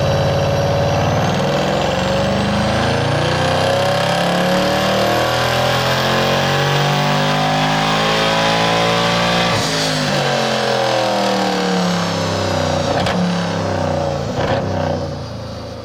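A Mercedes C63 AMG Black Series V8 runs hard on a dyno, its engine note climbing steadily through a long, loud power run before a crackling lift-off near the end, no talk.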